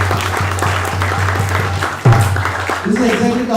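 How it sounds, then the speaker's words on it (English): Applause for a charity organization breaks out from a crowd, a steady wash of many hands clapping that swells briefly partway through, with a voice speaking over it near the end. "Let's give a big round of applause to the organization."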